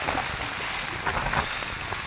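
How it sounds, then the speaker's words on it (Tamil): Heavy rain with strong wind gives a dense, steady hiss and patter that stays loud for two seconds. "நல்லா காற்றுங்க சரியான காற்று"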